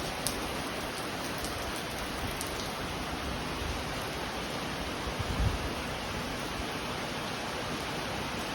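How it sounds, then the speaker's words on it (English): Heavy rain pours down in a steady, dense, close hiss with occasional louder drops and thuds, and no voices. "I need to show you this rain"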